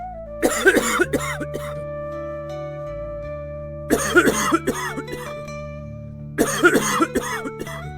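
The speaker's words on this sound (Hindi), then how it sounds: "अचानक अंदर के कमरे से खांसने की आवाज आती है।" Coughing from an inner room of a large house during a party, in three separate rough bursts spaced a few seconds apart over a steady low background hum and tones.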